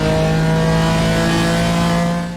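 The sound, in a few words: BMW M4 GT4 engine revving on throttle, iRacing video game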